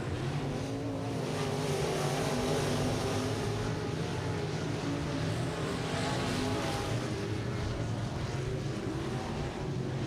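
Race cars roar around a track at a Friday night race, a dense continuous engine drone that stays loud and fairly steady the whole time, with several cars blending together and no pause.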